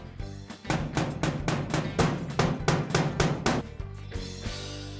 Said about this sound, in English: The decorative nails are driven in every 12 inches and become part of the overall pattern.